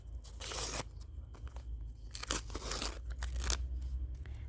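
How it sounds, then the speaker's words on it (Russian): A crinkly paper surprise packet being torn open and handled, close-up bursts of rustling, crumpling and tearing that come and go in uneven waves, quiet overall and with no talk. "Наш пакетик шуршащий."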